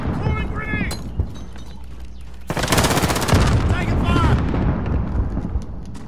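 Sustained machine gun fire rattles loud and dense for the last few seconds of a Call of Duty Modern Warfare match, after quieter game noise and voices.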